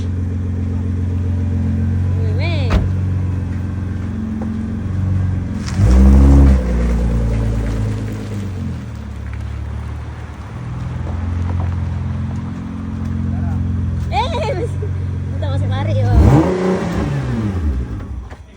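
Nissan GTR sports car engine revving and accelerating at a car clearance event, several sharp rising revs and bursts over a continuous idle, with faint background voices.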